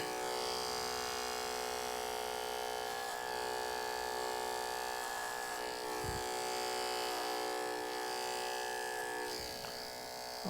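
Constant close buzz of electric hair clippers working through thick hair, the motor droning evenly with faint changes in pitch, no voices.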